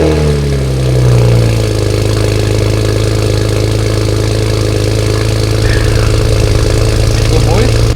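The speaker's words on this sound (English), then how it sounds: "First time with BMW pops." A tuned BMW engine fires up for its first start with a modified exhaust, settling into a loud, steady rumbling idle close by, with a faint crackle near the end and a voice over it.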